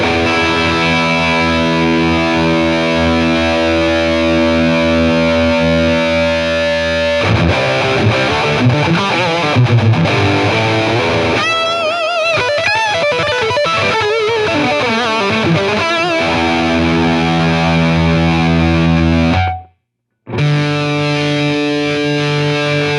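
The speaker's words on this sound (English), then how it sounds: "And last but not least, we have high gain." Electric guitar played through the high gain channel of a Line 6 Catalyst 100 amp, loud and heavily distorted: long sustained chords, then busier riffing and bends, cutting to silence briefly near the end before another ringing chord.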